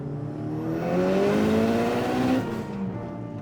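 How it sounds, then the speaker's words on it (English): A big-turbo Eagle Talon engine roars loudly nearby, climbing in pitch as it revs, holding high, then dropping back off. "The first and last time you saw my big turbo Talon running, this is what happened."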